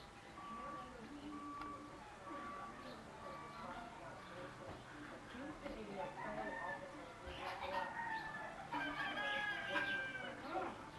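Chickens cluck and crow steadily in the background while people talk nearby, the birds growing busier toward the end.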